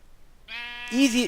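A sheep in the Minecraft video game gives a short synthetic bleat, clear and close, quickly followed by a voice talking.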